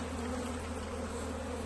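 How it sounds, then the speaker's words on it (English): Honey bees buzz in a dense, steady drone around a hive on a farm in Portugal, close and continuous with no voices. "So that the bees don't just fly away everywhere."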